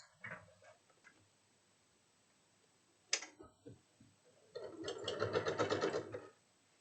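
A sewing machine stitches quilt pieces together: a few faint clicks and taps come first, then a short burst of rapid, rhythmic stitching runs for about two seconds near the end.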